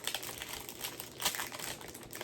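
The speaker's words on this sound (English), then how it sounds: "Sorry for the crinkling" Plastic packaging crinkling and rustling up close while a box of diamond painting kits is sorted, a steady run of crisp crackles with a few louder crunches and no talk.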